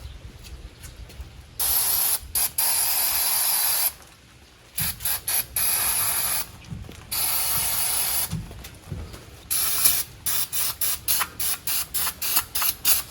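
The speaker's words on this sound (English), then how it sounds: "spray that entire spring and cable and housing" Repeated bursts of an aerosol can spraying lubricant onto a parking brake cable, spring and housing, loud and close, some long and others short and rapid, with small clicks between them.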